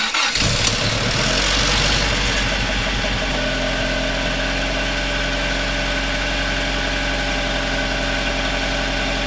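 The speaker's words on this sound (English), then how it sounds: "Let's try to start the car now." A car engine cranks for a moment with a jump starter, then catches and settles into a loud, steady idle close by, with no talking.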